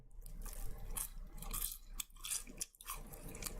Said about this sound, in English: you can hear they're very crunchy still